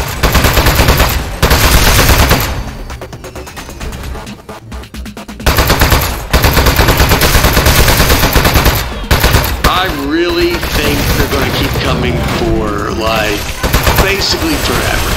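Loud gunfire from the video game Aperture Desk Job, with rapid machine-gun-like bursts that drop out briefly and then resume, running under a dense game soundtrack while a voice talks.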